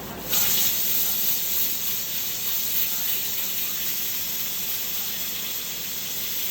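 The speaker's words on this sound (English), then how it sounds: "As the pressure builds, it releases steam." A pressure cooker on the stove, cooking Jamaican oxtail, lets off a steady, close, fairly quiet steam hiss that continues without a break; no talking.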